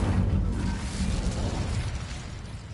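A fire spell cast in Hogwarts Legacy, a dense, roaring burst of flame with low rumbling crackle that stays steady and loud for a few seconds.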